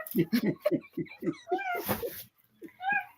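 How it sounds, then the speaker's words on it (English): A cat meows several times in a row indoors, short close calls with someone speaking nearby. "Why are you meowing at me?"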